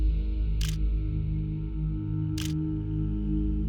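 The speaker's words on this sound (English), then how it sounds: "she also heard what sounded like the clicking of a camera shutter" A camera shutter clicks twice at slow, even intervals, each crisp snap standing out over a steady low droning hum in the background.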